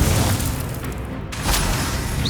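A fiery Incendio spell bursts in Hogwarts Legacy during a combat encounter, a deep booming blast over rumbling game noise, swelling midway through.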